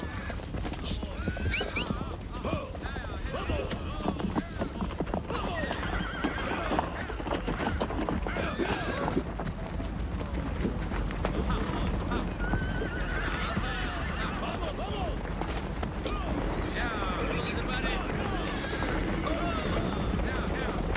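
A herd of horses gallops with continuous drumming hoofbeats and repeated neighs and whinnies, a dense, loud scene mixed with shouting voices throughout.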